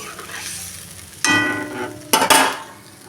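Paste of white mustard, poppy seed, black mustard and green chilli is stirred in a pan for a fish curry. It makes two short, close bursts of wet scraping and sizzle over a quiet simmer.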